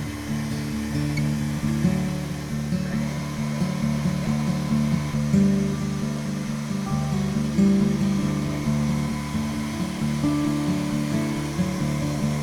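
A stand mixer runs steadily as flour and buttermilk are worked into cake batter, a continuous loud motor whir with no talking.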